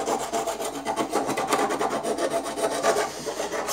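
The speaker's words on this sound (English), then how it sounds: "Maybe a little bit of filing just to clean up some of the plastic" Hand file rasping over the plastic edges of a cut hole, a near, rapid back-and-forth scraping in quick even strokes with no talk.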